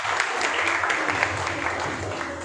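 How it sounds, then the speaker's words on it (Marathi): An audience at a coaching class in Barshi, Maharashtra, applauds students' SSC exam results with steady, dense clapping that fills the whole stretch at an even level, with a faint voice mixed in. "टाळ्या वाजवण्यासाठी."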